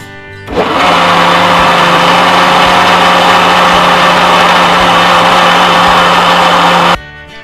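Mixer grinder blending a thick custard cake batter made with milk, a steady loud motor whine and churning that runs continuously for about six seconds before cutting off, with no talking.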